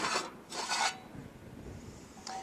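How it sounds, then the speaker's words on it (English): Metal access cover scraped and pulled free from a Lexion combine near the vertical auger during routine servicing, two close rasping scrapes followed by a shorter one after a pause. "and then I have to remove this cover."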